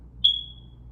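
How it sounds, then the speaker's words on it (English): A smoke alarm chirps once, a single loud, high-pitched beep that rings out and fades over a low room hum, sounding after its batteries have been removed. "I got my fire alarm going off because I took the batteries out."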